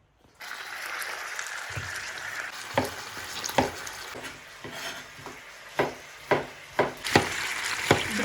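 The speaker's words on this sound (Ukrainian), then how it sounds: "картошка ріжеться, м'ясо жариться" Chicken meat frying in a pan for a stewed chicken and potato dish, a steady broadband sizzle with sharper crackles and scraping stirs punctuating it at intervals, close and fairly loud, no talking.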